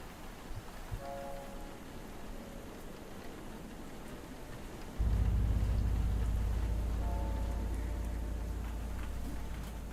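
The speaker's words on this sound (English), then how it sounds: "Can I like get out of the rain first?" Steady rain falls, a soft hiss at first, then partway through a loud low rumble of heavier rain or wind takes over and stays, with faint voices briefly audible.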